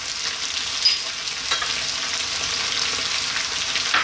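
Garlic ginger paste, fresh chilies, eggplant and cauliflower fry in a hot pan with a loud, steady, hissing sizzle close by, broken by a few faint clicks of stirring.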